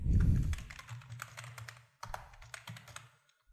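Someone types a domain name on a computer keyboard with quick, quiet clicking keystrokes in two short bursts that are close and isolated.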